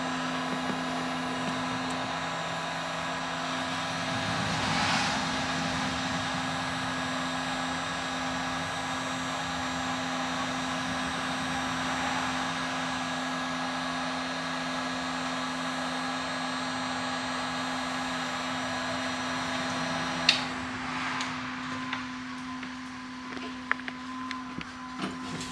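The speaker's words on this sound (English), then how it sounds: "And the fan shut off, the heater shut off, showing that the heat functions as intended." Fan and heater of a containerized greenhouse module running together in a steady, even whir with a low hum, holding constant throughout before a few faint clicks near the end.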